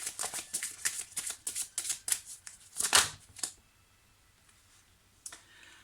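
Oracle cards being shuffled and drawn, a quick run of crisp flicking riffles close by for about three seconds, then a near-silent pause and one last soft snap.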